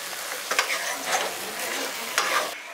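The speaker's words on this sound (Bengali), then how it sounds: "এটাকে 2-3 মিনিট একটু নাড়াচাড়া করে নেবেন।" Jujube pickle with fried spices stirred in a pan over a gas flame in a village kitchen: continuous scraping stirs and soft sizzling, close and fairly loud, with a few sharper spoon knocks.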